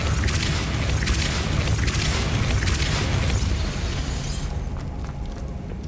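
The Depulso spell is cast in Hogwarts Legacy, unleashing a loud, sustained rumbling blast with crackling, shattering debris that dies away abruptly near the end.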